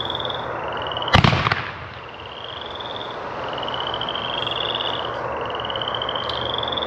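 A 50 mm White Strobe Comet firework goes off with one sharp, loud launch thump, then a steady field of rapid crackling strobe sparkle fills the rest, heard from a short distance outdoors with no voices.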